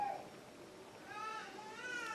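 A house cat meows indoors, a faint drawn-out cry followed by a couple of thin higher calls over a quiet room.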